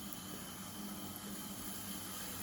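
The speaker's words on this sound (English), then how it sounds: "Bit of a fizz, bit of a sizzle, that's the word I was looking for." Hot cooking oil in a pan fizzes and sizzles with a steady, soft, even hiss throughout, a faint bubbling texture underneath and no voices.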